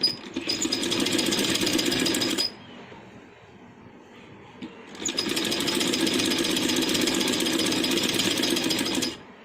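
Sewing machine stitching along the edge of a handmade long night frock, two loud, close bursts of rapid running separated by a short pause.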